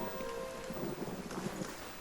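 Rain and thunder in the video game Pillars of Eternity: a faint, steady hiss of rainfall with a low rumble of thunder rolling underneath, continuous throughout.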